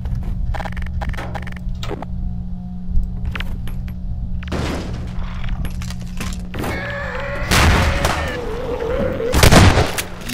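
A grenade thrown and exploding during Half-Life 2: Episode Two gameplay, with a low, steady game hum, scattered thuds and a couple of loud booming bursts near the end.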